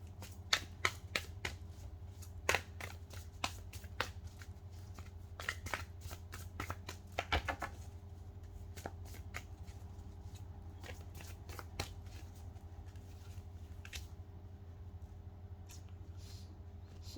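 Tarot cards being shuffled from three decks, giving soft, close riffling clicks and flutters in uneven bursts, heavier in the first half and sparser later, with no talking.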